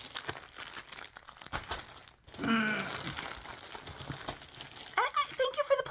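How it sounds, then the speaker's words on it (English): Plastic bags holding crocheted granny squares crinkle and rustle in bursts near the microphone, loudest in two handling spells, while someone speaks in between. "thank you for the plastic bags too"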